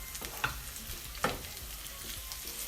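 Sausages frying on low heat in a pot give a steady soft sizzle, with two sharper scraping stirs about a second apart standing out near and clear.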